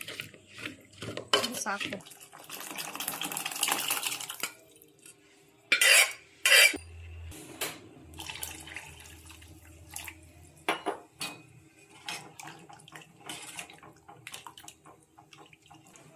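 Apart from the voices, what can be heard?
mashing cooked dal in a pot for rasam sambar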